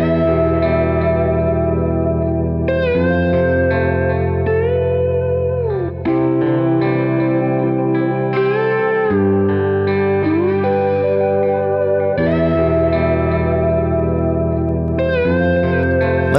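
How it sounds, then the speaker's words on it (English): Slide guitar from a cinematic documentary guitar sample library plays sustained, gliding notes drenched in reverb and echoing delay, a continuous loud and washy phrase with no talking. "I think that slide guitar could use some reverb and delay."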